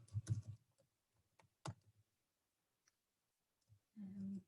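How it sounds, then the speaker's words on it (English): Sparse keyboard clicks, a few sharp keystrokes separated by pauses, close and quiet, ending with a short louder thump. "So I'm going to start typing."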